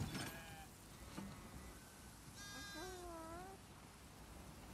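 Sheep in the video game The Last of Us Part 2 give a couple of wavering bleats, fairly faint and close, against a quiet ambient background with a soft knock early on.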